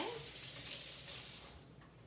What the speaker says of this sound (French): Je vais rincer mes mains.